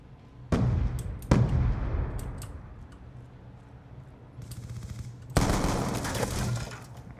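Loud gunshots ring out in an online match of Call of Duty Black Ops 2: two sharp cracks early on, scattered distant shots, then a heavy burst of automatic fire near the end, with no voices.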